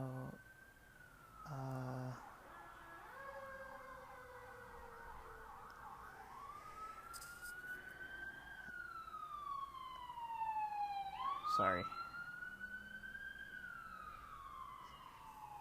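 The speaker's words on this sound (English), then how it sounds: "sirens." A siren wails and sweeps up and down in pitch, rising and falling continuously, with a brief word spoken near the start.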